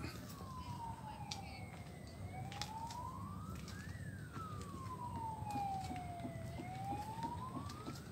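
A distant ambulance siren wailing, rising and falling in long sweeps, faint against low background noise, heard from a mangrove park in Pekalongan, Indonesia.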